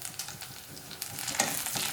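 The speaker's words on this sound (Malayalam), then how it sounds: "ഇനി നമുക്കിതിലേക്ക് 2 വറ്റൽമുളക് ഇട്ട് കൊടുക്കാം." Dried red chillies drop into hot oil with garlic while making paneer 65, giving a steady hissing sizzle that swells into a brighter crackle partway through. No talking.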